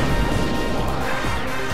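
A loud, dense smash-and-crash impact as a steel mech fist shatters a monster's claws in the Demonbane video game, heavy booming crunches sustained across the clip with no talk.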